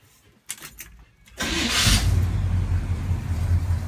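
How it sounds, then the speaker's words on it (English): A 1976 Chevy truck with dual exhaust cranks and catches at close range, then settles into a steady, loud idle with a deep rumble that continues to the end. "Truck sounds good."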